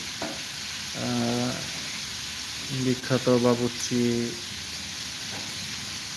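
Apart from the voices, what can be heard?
chicken frying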